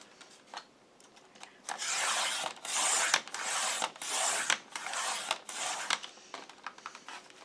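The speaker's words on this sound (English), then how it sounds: "And I'm using my other trimmer so that the blade in my original one stays sharp." A paper trimmer blade rasps through the cover of a paper-bag album in about six close, scraping strokes, each a second or less, separated by short pauses and a few light clicks.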